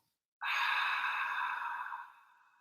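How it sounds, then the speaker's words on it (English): A clearing breath during a vinyasa yoga session: a single long, breathy exhale through an open mouth, close and fairly loud, fading out after about two seconds. "So breathe in through the nose. Open mouth, exhale."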